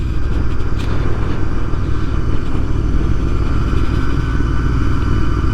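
A Royal Enfield Interceptor motorcycle cruises along a private road in Wales, its engine a continuous, even drone with a faint rattling texture and no change in pace.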